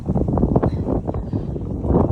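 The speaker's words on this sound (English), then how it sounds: "Oh, it's windy." Gusty wind buffets the microphone in low rumbling bursts, rising and falling throughout.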